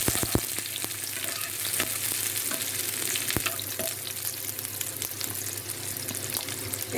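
Spice paste fries in a hot pan, giving a dense, steady sizzle and crackle throughout, close up, with a few sharp ticks from stirring and no voices.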